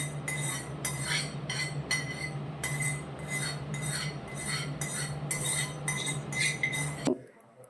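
A spoon clinks steadily against a bowl while rajma pickle is mixed with asafoetida and cooled oil: quick, repeated metallic taps over a low steady hum, ending abruptly.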